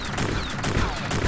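A shotgun fires in the sci-fi shooter Space Beast Terror Fright, producing a dense, loud burst of blasts and clattering impacts packed into about a second.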